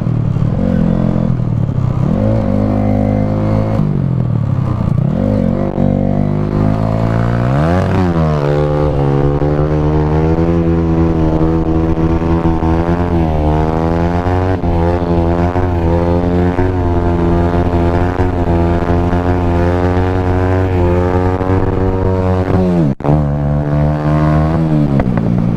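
A fan-cooled motorcycle engine runs loud and close as it rides through snow in January, droning steadily with repeated revving rises and falls in pitch and a brief clatter near the end, with no talking.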